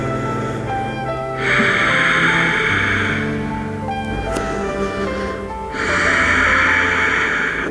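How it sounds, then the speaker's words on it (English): Slow, deep breathing held through a yoga hip stretch, two long audible breaths with airy inhales and exhales rising and falling, close and calm, over a faint hum and no talk. "5 breaths in here"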